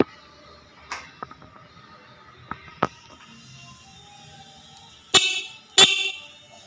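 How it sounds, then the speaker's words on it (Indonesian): Aftermarket CR7 horn fitted to a Suzuki Skywave 125 scooter, sounded in two short loud bursts near the end after a few faint clicks and taps, close to the listener with no talk. "Ini untuk klaksonnya CR7."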